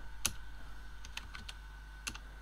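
Sparse, quiet keyboard clicks as keys are tapped on a 2011 Fujitsu phone running MS-DOS, a handful of separate presses over a low steady hum.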